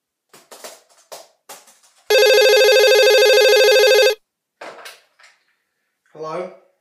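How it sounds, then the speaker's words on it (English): A telephone rings once after a call is dialed, a steady electronic ring lasting about two seconds between short bursts of talk before and after. "Let's dial him again."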